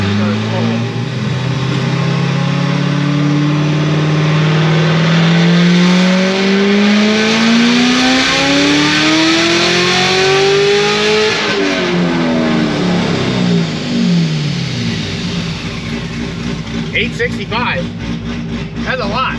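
A C7 Corvette Z06 with a stock blower and RPM Stage 4 build rolls into a pull, its supercharged engine climbing loudly in pitch for about eleven seconds before backing off into a rough, burbling idle.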